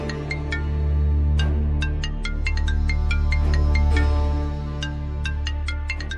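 A phone ringing with an incoming call in a drama scene: a bright electronic ringtone of quick repeated chiming notes over a low sustained musical background, moderately loud and steady, no speech.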